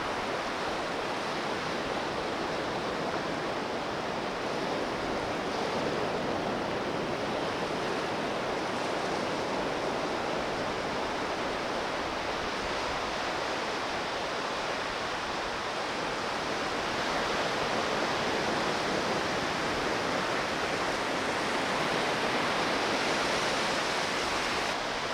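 Ocean surf breaking on a steep beach at low tide, a steady broadband wash of waves that fills the whole stretch without letup, loud and continuous with no voices over it.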